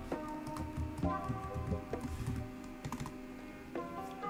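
Keystrokes on a computer keyboard typing code in a Roblox scripting editor, a steady close run of light clicks with occasional louder taps, alone without talk.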